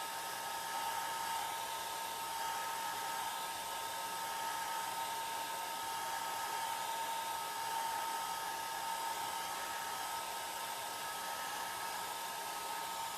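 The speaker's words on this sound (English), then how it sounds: "And again, my blow dryer is on the low setting." A hair dryer on its low setting runs steadily for the whole stretch, a constant whooshing whir with a faint tonal hum and no talking.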